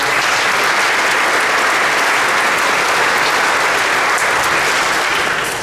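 An audience at a sports season kickoff orientation claps loudly and steadily, a dense, even wash of applause that fills the whole stretch without a break.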